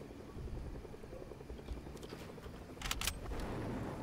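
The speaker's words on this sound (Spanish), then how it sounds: "Creo que estaba en un helicóptero." A helicopter in a first-person shooter game with a hunting rifle, its rotor chop pulsing steadily at mid distance under game ambience, with a brief louder burst near the end.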